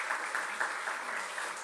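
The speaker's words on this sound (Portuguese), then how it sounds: "Vamos aplaudir o Senhor" Church congregation applauding, a steady wash of many hands clapping together, moderately distant and even throughout with no voices over it.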